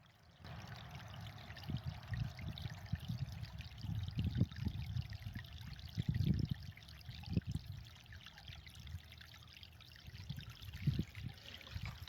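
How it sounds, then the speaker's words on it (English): Gentle, continuous trickle of a small stream running over a little waterfall, splashing over rocks, soft and close, with no voices. "I'm right here above the little waterfall, the rill."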